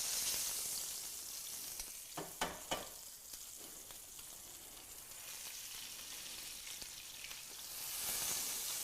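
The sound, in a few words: meat searing in oil in a pan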